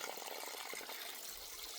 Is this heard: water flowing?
yes